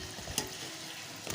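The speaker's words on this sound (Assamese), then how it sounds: "এনেদৰে ভালদৰে লৰাই ৰঙচুৱা হোৱালৈকে ভালদৰে ভাজিব" Small Assamese jolpitha dumplings fry in hot oil while being stirred, a soft steady sizzle with a couple of brief scraping knocks, heard briefly and fairly close.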